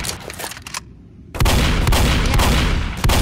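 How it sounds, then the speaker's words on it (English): Rapid bursts from a fully automatic shotgun in the video game Left 4 Dead, a loud, dense barrage of blasts after a brief quiet gap, filling the rest of the clip. "this shotgun, it's fully automatic"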